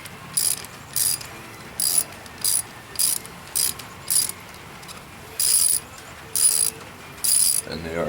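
A ratchet wrench works stiff 8 mm bolts on the clutch slave cylinder of a 1983 Honda Magna VF750C, with short bursts of sharp metallic clicking repeating in a steady stop-start rhythm, close and clear.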